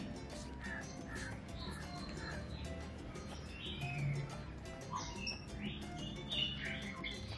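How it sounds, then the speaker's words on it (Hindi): Crows caw repeatedly among other chirping birds at a zoo, a dense layer of calls at moderate distance over a steady outdoor background, with no one speaking. "वॾो परिंदनि जा आवाज़ अचनि था"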